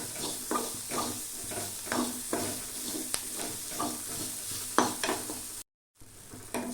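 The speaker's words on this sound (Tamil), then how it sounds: "நம்ம ஃப்ரை பண்ண பீன்ஸை போட்டுக்கலாம். லைட்டாக ஃப்ரை பண்ணோம்னா போதும்." Beans, fried beforehand, tossed lightly in a hot pan with asafoetida. Steady sizzling runs throughout, with regular scraping stir strokes about every half second and a brief dropout near the end.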